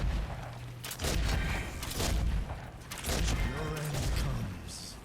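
Charged explosion shots from a gun in the game Davy x Jones, three heavy bursts roughly a second apart over busy game sound, with a voice murmuring faintly underneath.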